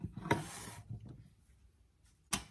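A knife slicing through lemon peel on a cutting surface in a kitchen: a sharp scraping cut, a couple of softer scrapes, then another quick crisp cut near the end.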